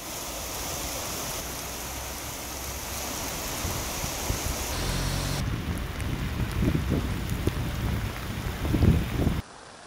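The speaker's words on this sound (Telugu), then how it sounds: "ఇటు మెదక్ జిల్లాలో భారీగా వర్షాలు కురుస్తున్నాయి" Heavy rain pours steadily in Medak district, a dense broadband wash of falling water that grows rougher and more splashy midway, with no talk.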